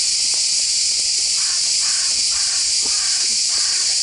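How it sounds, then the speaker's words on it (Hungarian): Loud insect-like buzzing and chirping birds fill the air around the huge walls of a castle, a steady dense drone with scattered short calls throughout. "Nagyon zümlögnek ezek a madarak."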